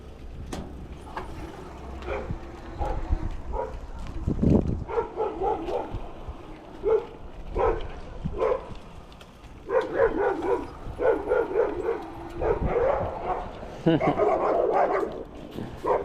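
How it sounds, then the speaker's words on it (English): Several dogs bark in repeated bursts, some sharp single barks and some rapid volleys, fairly close, with occasional yips between, and a few low thumps in the background. "it was a different dog barking at them"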